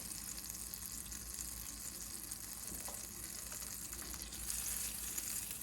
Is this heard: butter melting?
yes